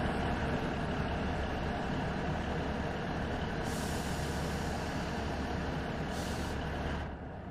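Train braking in Train Sim World 5 on the Cardiff City network, a loud, sustained rumble and hiss of brakes under steady motion noise, with bursts of air release and a fade near the end.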